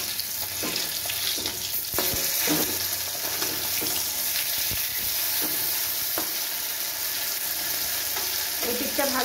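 Koi fish frying in hot oil after being turned over, a steady loud sizzle punctuated by occasional scrapes and knocks of a utensil against the pan.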